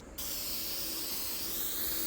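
An old can of black spray paint bursts on after a brief moment of quiet and then hisses loudly and continuously at close range, with no talking.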